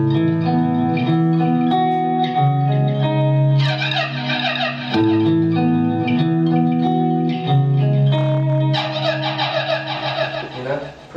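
An electric guitar plays through a Blackstar ID series amp with reverb and delay, sustained chords and picked notes ringing out with long echoing tails, loud and alone.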